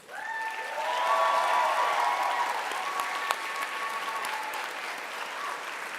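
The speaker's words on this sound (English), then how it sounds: "give them a big cheer and a big round of applause." A graduation ceremony audience applauds and cheers, sustained clapping from a large crowd rising quickly and holding steady, with a few whistles and shouts over it in a big hall.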